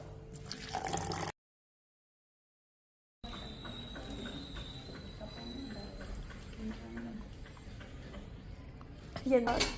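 Warm water trickles and splashes into a glass holding a spoonful of powder, a steady liquid pour with faint clinks, interrupted by a brief silence partway through.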